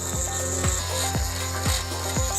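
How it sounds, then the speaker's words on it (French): A thin drill bit cuts into the cylinders of a padlock, making a loud, close, rhythmic rasping that grinds back and forth about twice per second with a steady high metallic hiss. No voices are heard. "Prenez alors une perceuse fine et commencez à scier les cylindres."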